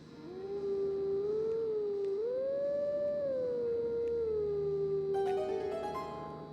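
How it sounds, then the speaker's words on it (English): A wolf from the Howling Stone in the Zelda: Twilight Princess video game howls in one long sustained, wavering tone that rises and falls, with game music chimes entering near the end and no talk. "And I just get to listen to some wolf jamming out."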